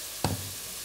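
Chicken pieces drop into hot oil for stew, giving one sharp splash that settles into a steady hissing sizzle, close and with no voices.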